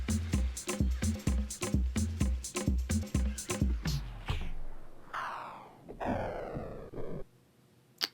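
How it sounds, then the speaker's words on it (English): A thumping beat plays, then slows and sinks in pitch to a grinding halt, a vinyl record stop effect made in Ableton Live's Sampler, followed by a few quieter whooshing tones. "how to create a record stop sound effect that can be applied to any sample in Sampler"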